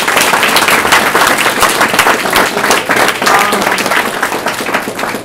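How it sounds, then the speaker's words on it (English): Loud, sustained applause from an audience, dense clapping filling the whole stretch without letting up. "Can we give our panelists a round of applause?"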